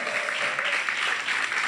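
Audience applause breaks out for a singer as she joins the stage at the Nostalgie Fun Outdoor show, a steady wash of crowd clapping that runs throughout the short moment.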